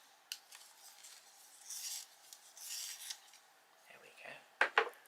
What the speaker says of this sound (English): It's very blunt, we'll just sharpen it.